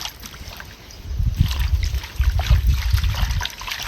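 Leaves being rinsed and swished by hand in water, with irregular close splashing and trickling that swells and eases throughout, no voices.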